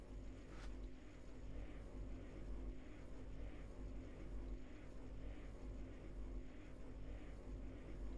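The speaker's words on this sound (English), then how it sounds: "the whole system's whirring away" Machines whirring away in modded Minecraft: a faint, continuous low hum and drone with a soft pulsing rhythm, with no one speaking.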